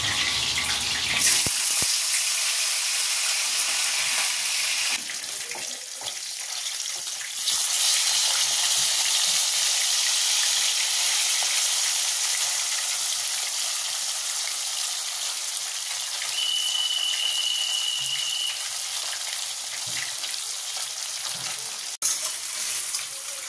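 Continuous loud sizzle of cumin, coriander, salt and turmeric frying in a pan, steady throughout with brief shifts in intensity and a short high tone partway, no speech.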